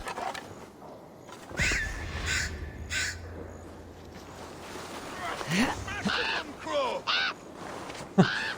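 A crow caws several times in Assassin's Creed Valhalla, in short harsh bursts over steady game ambience and a low rumble, with scattered other game sounds.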